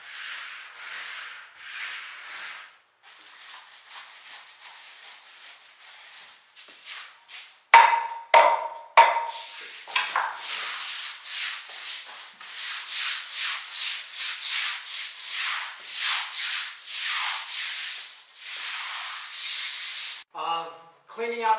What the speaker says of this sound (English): you take the deck brush. You're scrubbing everything down